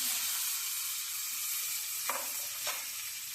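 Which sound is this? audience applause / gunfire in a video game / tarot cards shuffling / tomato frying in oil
tomato frying in oil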